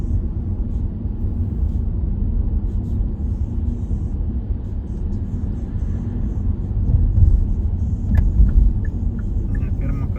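A car's engine and tyre rumble fill the cabin steadily as it drives into an intersection and turns left, with a slight swell in the noise near the end and a person talking over it.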